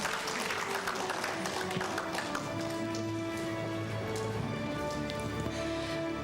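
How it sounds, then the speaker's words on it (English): Audience applause at a school honours day ceremony for awardees of the Kuala Lumpur campus, a steady dense patter of clapping over a sustained musical tone with some background voices. "Please join me in giving them a round of applause as they accept this well-deserved recognition."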